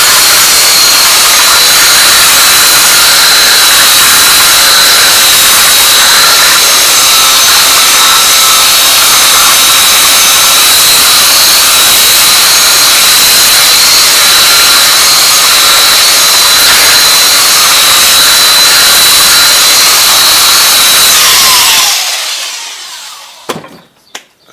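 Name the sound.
Makita belt sander with 80 grit belt sanding wood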